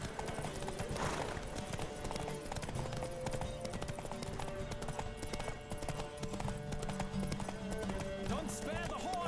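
In a horse race in The Witcher 3, hooves pound in a rapid, steady gallop, close and continuous, with voices speaking over the running.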